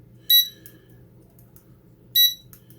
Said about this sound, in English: This beeper is awfully loud.